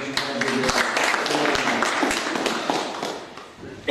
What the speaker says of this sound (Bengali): আমি সবার পক্ষ থেকে একটু চাই যে আমরা একটু হাততালি দিয়ে আমাদের